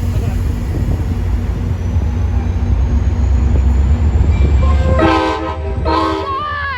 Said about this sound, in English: I think we're about to see an outbound Metro Express.